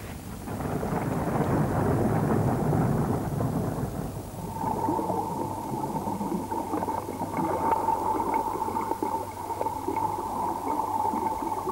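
Violent thunderstorm over the Vercors massif, a long roaring rumble of thunder rolling over steady heavy rain, then easing into continuous rainfall with a faint tonal hum, loud and enveloping throughout.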